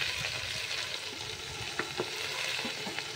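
Greens frying in a pan just after chopped green chillies go in, a soft, steady sizzle with a few light clicks of stirring.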